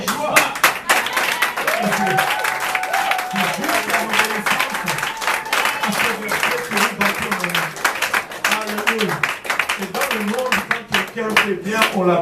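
A church congregation claps hands together continuously and rhythmically, loud and close, with voices singing or calling out over the clapping throughout.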